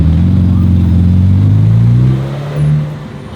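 A Ferrari 812 V12 roars loudly and close on a Zurich street, pitch climbing through a long rev before dropping off, then a brief second blip; no talking over it.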